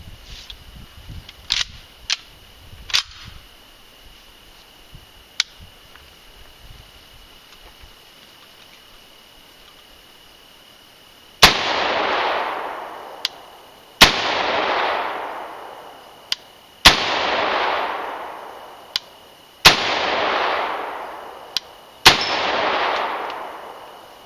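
A rifle firing single semi-automatic shots, one per trigger pull: five loud, sharp cracks spaced a few seconds apart, each followed by a ringing decay outdoors, after quieter handling clicks.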